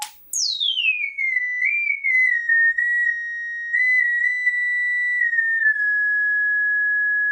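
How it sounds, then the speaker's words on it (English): A planar tweeter's etched foil resonates as a loud, pure whistling tone that sweeps down from high pitch, wavers slightly, then settles into a steady sustained note, alone without talk. "I can show you real quick the resonance that is so annoying and typical of this kind of foil"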